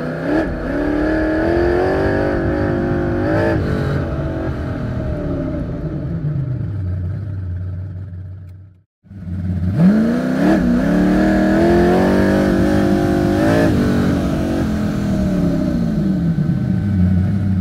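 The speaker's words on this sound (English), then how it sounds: "Adding some filtered engines to your interior samples will really help bring your interiors to life." A car interior recording layered with filtered engine sounds rises and falls through repeated revving sweeps, cuts to near silence for a moment, then surges back into more rising and falling engine revs.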